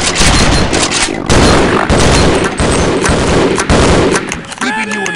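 Heavy video game gunfire roars continuously, with loud, close, rapid bursts of automatic shots and explosive booms that barely pause until a brief lull at the end, where a voice cuts in.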